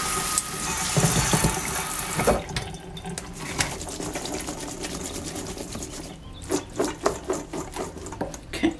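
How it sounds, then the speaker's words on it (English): Tap water runs into a sink over berries in a colander: a strong gushing stream at first, then softer splashing with irregular knocks and rattles as the fruit is moved about under the flow. "give the berries another really good rinse. And just in the colander in the sink"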